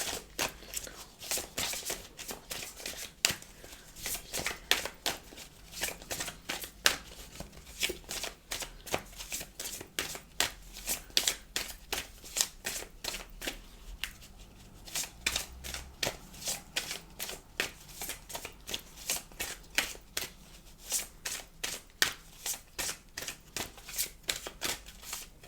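Tarot cards being shuffled by hand, a steady run of crisp riffling flutters and soft slaps repeating close up for the whole stretch, with no talk.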